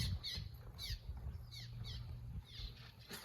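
Repeated high chirping calls of swallows, several short twittering notes spaced through the clip over a faint low hum.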